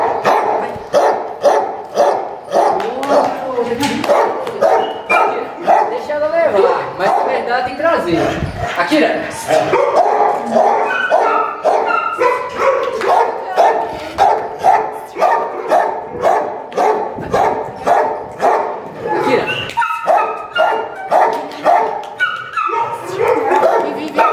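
A dog barks repeatedly in quick bursts, close and loud, with some whimpering yips mixed in and people talking over it.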